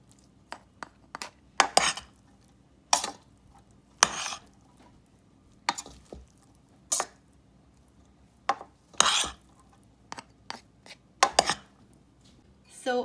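Mushroom rice being mixed in a pot: scattered scrapes and clinks of a spoon against the pot, irregular and close, separated by quiet gaps.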